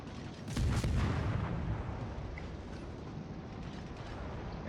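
Naval guns of the destroyer Clemson fire at a cruiser in a naval warship game: a heavy boom with a dull low thump, followed by a lingering rumbling tail that fades slowly.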